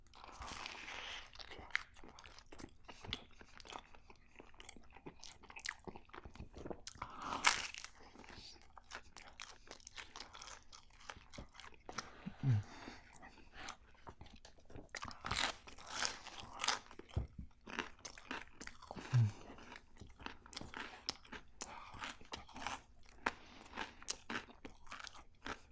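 Crunchy bites and chewing of a frozen four-cheese pizza dressed up with basil and garlic, close and crisp, with repeated crackling crunches and softer mastication between them, plus a few brief sharper bites.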